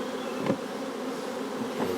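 Honey bees hum densely around a full hive box in a beeyard, a steady close buzz with a couple of louder passes as individual bees fly near.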